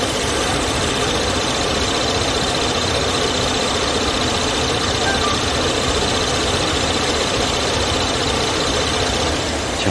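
A car engine idling under an open hood, a loud, steady mechanical drone with constant vibration and no talking, close to the engine bay; the car has a fault where it stalls when the steering wheel is turned.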